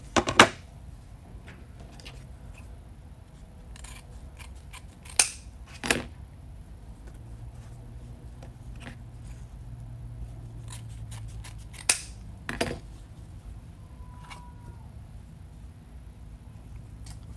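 Scissors snipping ribbon for a spring welcome wreath, a few sharp, scattered cuts and rustles spread across a quiet, soft background, close by, with no talking.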